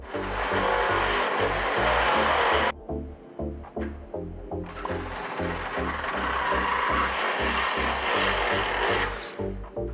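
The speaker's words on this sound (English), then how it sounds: "I'm gonna use a stepper bit to upsize this hole to 1/2 inch" A stepper bit bores a hole out to 1/2 inch in a 1966 Mustang coupe. The motor whirs and grinds loudly and close with a pulsing rhythm, eases off for about two seconds, then drives on again.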